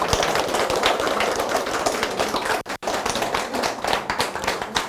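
A crowd at a gallery talk for a calligraphy and painting exhibition applauds a lecturer in steady, dense clapping that fills the room, with a brief pause partway through before the applause carries on loudly.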